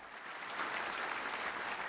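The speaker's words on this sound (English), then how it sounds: "there's the applause" Steady crowd applause in the Snooker 19 video game at the Indian Open, a soft even wash of clapping at moderate distance lasting under two seconds.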